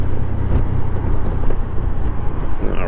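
A Can-Am Spyder three-wheeled motorcycle cruises along a highway, its steady engine drone mixed with heavy wind rush, loud and unbroken without talk.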